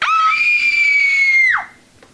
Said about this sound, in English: I'll scream bloody murder.